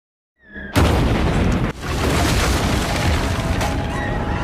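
A sudden loud explosion in a Rurouni Kenshin film bursts out of near silence with a deep boom, followed by a sustained roaring rumble and a second jolt of debris.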